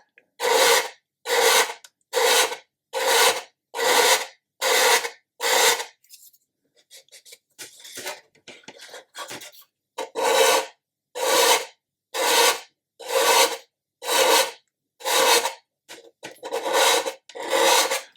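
A model ship deck for a 1/200 Scharnhorst kit is sanded by hand with 400 grit sandpaper in steady rhythmic downward strokes. The rasping comes close and loud in two runs, with a short pause of soft handling noises between them.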